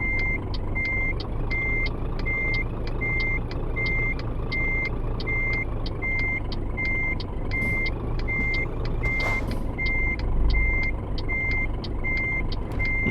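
A truck in Euro Truck Simulator 2 backs up a trailer, its reversing alarm beeping steadily and evenly over a constant engine hum, with one brief clunk partway through.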